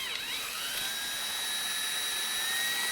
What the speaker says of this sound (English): we're going to go ahead and drill out the hole right here